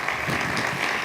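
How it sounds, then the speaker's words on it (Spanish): Brief burst of audience applause at a conference session on city technology strategy, a dense, even patter of clapping filling the moment. "Yo pedí un fuerte aplauso para él."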